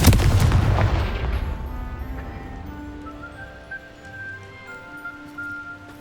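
Hogwarts Legacy's Confringo blasting spell goes off in a loud explosive burst that rumbles and decays over several seconds, leaving faint ringing tones and ambient game sound.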